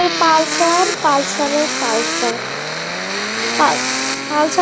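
A Bajaj Pulsar motorcycle engine revs in repeated rising bursts, loud and close, with whining pitch climbing and falling between throttle blips.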